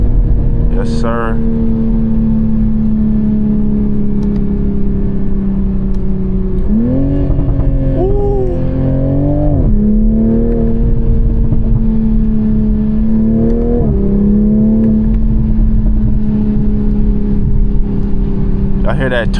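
A car engine with a turbo, heard from inside on a late-night drive, hums steadily with a couple of rising revs and whistling spool-ups, while a person talks over it.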